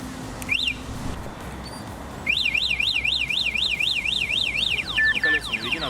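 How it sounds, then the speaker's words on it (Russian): A Skyboard BR80 electric scooter's security alarm warbles, rising and falling in a rapid repeating siren pattern, loud and close, starting with a brief chirp then sounding continuously. "За безопасность самого электроскутера Skyboard BR80 отвечает система сигнализации."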